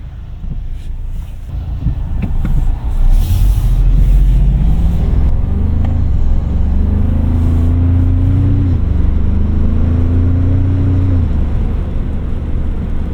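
A 2025 Toyota 4Runner Trailhunter driven in sport mode, heard from inside as a loud steady engine drone that rises in pitch twice during acceleration, over road and wind rumble.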